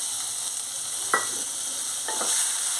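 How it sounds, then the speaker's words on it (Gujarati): Continuous hot-oil sizzle from a pan as chopped tomato is sautéed in a tempering for potato curry, broken by two soft scraping stirs of a spoon. "બધો વઘાર એકદમ સરસ આવી રીતે કરી લેશું અને સાતરી લેશું"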